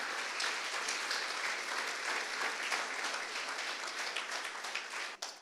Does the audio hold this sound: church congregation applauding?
yes